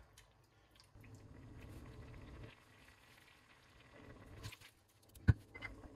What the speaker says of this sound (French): Je vais laisser juste à peine bouillir pour enlever l'alcool.